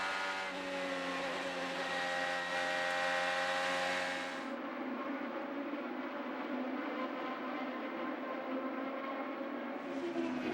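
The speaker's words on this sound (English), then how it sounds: "A battle for the lead on the racetrack is Scott Dixon." IndyCar race cars at speed on the Texas oval during a 2012 race, a loud sustained engine whine that shifts pitch as a car passes, then a steadier broadband roar from the track with no commentary.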